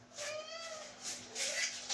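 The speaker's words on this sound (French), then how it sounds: "Arrête de miauler, qu'est-ce qui t'arrive?" A cat meows indoors in a string of close, drawn-out meows over about two seconds, each with a rising and falling tone, heard alone with no talking.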